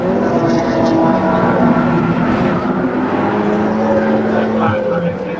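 A Golf TDI and an Audi TT TFSI race at Silverstone GP in a Britcar Trophy race. Their engines give a sustained drone that rises and falls, with a voice talking over it.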